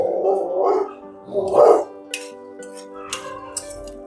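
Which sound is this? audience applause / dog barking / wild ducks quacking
dog barking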